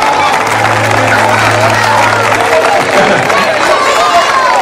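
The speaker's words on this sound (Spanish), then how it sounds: "Un aplauso para nuestro Win" An indoor audience at a season presentation event breaks into applause, a dense spread of clapping and crowd noise with some murmuring voices, close and continuous through the short stretch.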